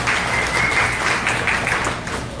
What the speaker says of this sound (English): Give these guys a round of applause for showing up.